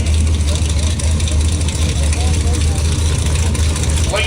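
A 1965 Chevrolet El Camino idling during a car parade at Coles County Dragway, a steady loud low engine rumble throughout, with someone talking over it.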